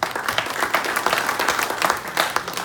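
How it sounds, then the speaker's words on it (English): A club assembly audience applauds in a lively round of clapping, individual claps rippling through a dense crowd sound with slight rhythmic surges, close and full, no talking. "Please give him a round of applause."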